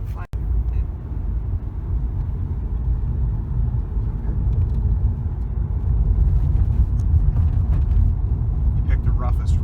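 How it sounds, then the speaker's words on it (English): A 2007 Saab 9-5 driving over a rough road, heard from inside as a continuous low rumble and road noise that grows slightly louder, with faint knocks and rattles. "Pick the roughest road to test the ride on."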